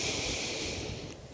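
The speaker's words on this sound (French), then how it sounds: "J'inspire." A single long inhalation during a qigong breathing exercise, steady and airy, close to the microphone, with a slight catch at the very end.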